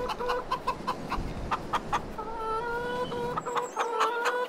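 Hungry chickens in the farming game Farming Simulator 22 cluck repeatedly in short, rhythmic bursts, close and fairly loud over a low ambient background.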